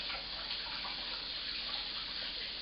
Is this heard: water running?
yes